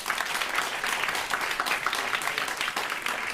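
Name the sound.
audience applause at end of event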